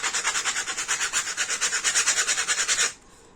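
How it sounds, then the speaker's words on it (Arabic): Coarse sandpaper rubs paint off a painting in quick, regular back-and-forth strokes, a harsh, close scratching rhythm of about a dozen passes that stops abruptly, leaving near silence. "بجيب صنفرة زي كده وبالصنفرة الخشنة،"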